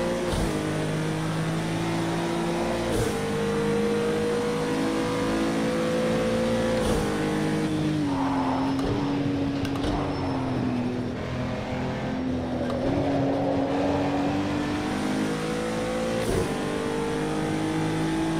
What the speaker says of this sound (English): I like downshifting that one right at the turn